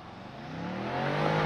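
A 2022 BMW M550i launching hard from a standstill, its engine note rising steadily and growing louder as the car accelerates, heard from inside the cabin with no talking.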